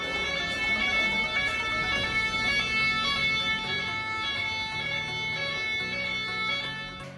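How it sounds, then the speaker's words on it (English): A narrow-street ambulance siren in Italy wails steadily throughout, its tones holding close and loud over a busy street background, with no talking. "In Italy, some streets are so narrow that they have this type of ambulance."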